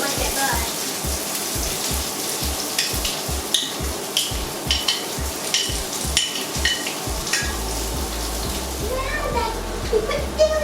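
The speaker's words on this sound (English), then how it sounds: "We put it down and we let it fry for a few seconds." Food frying in a home kitchen pan gives a steady, soft sizzle beneath a rhythmic thumping music beat, with small clinks of stirring throughout.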